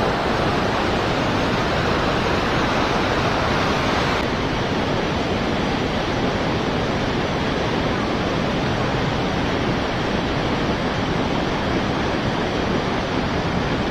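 A steady, loud rush of fast-flowing river water on the Fox River in summer heat, continuous and broadband with no breaks, no one talking.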